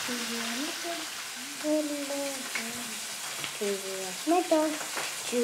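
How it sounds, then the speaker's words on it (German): Fresh trout frying in oil in a pan, a steady sizzle running throughout beneath voice-like tonal sounds. "Sie brät die frischen Forellen, die Det am Morgen nach Hause brachte, in Öl an."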